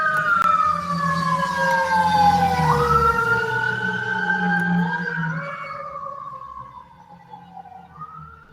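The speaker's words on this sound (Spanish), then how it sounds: "La ambulancia." Ambulance siren passing outside a classroom, its rising and falling wail loud and then fading away into the distance, with a low rumble of traffic beneath it.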